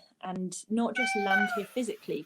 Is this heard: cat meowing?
yes